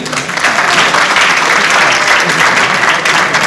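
Audience at a university quiz competition applauding qualifying college teams as they take the stage, full steady clapping throughout, loud and close, no voices over it.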